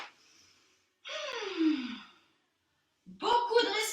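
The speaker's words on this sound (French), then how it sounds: "Beaucoup de respiration." Breathing during a Pilates exercise: a soft breath, a pause, then a long audible exhale with a slight voiced sigh, and finally a sharp gasping inhale, close to the microphone.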